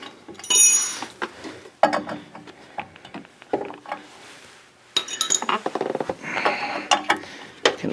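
Metal clicks and scraping of a wrench tightening a thread-sealed pipe fitting during a bypass filter kit install on a 2011-2019 Duramax diesel, in irregular close bursts with brief pauses, no talking.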